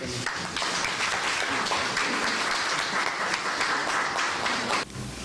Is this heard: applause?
yes